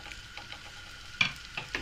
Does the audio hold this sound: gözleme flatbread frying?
yes